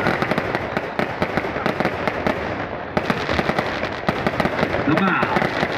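Firecrackers and fireworks burst during a village wrestling bout at Pimpale Gurav, Pune, in a rapid, dense run of sharp cracks and pops that goes on without a break, with crowd voices mixed in.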